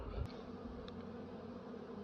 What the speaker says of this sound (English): You got bees between every frame